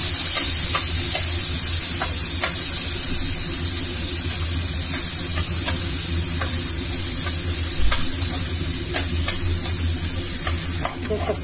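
Onions fry with ajwain in a pan for besan sabzi, giving a continuous close sizzle with light scraping stirs throughout, fairly loud and without talk.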